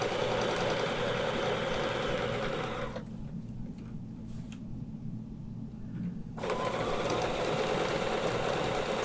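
A quilting machine stitches rulework in a loud, steady mechanical whir, pausing briefly in the middle before resuming at the same fast pace; no voices.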